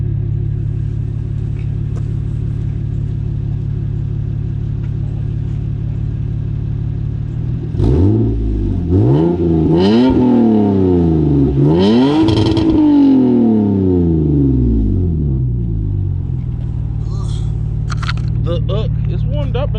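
Toyota GS300 with a 2JZ engine and Flowmaster Super 10 muffler replicas, idling loud and close, then revved hard several times in rising and falling bursts before settling back to a steady idle.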